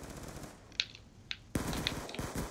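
A Scorpion submachine gun fires in a video game hardpoint match on the Carrier map, with short sharp bursts and single cracks at moderate loudness, a louder burst starting partway through.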